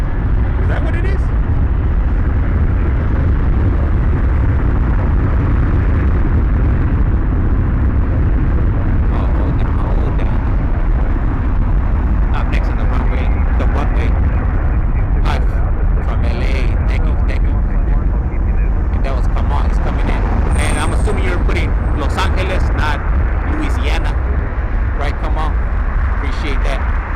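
An Alaska Airlines cargo plane passes at Las Vegas Harry Reid International Airport, a loud, continuous jet roar that stays present throughout, with people talking over it.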